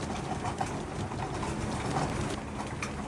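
Racing pigeons at a loft give low, soft coos amid a steady wash of background noise, the birds close but not loud.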